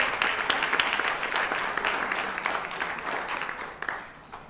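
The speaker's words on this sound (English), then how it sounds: "Let's give him a round of applause." An audience claps for a state senator at a campus 50th anniversary celebration, a sustained, even round of applause that slowly tapers toward the end.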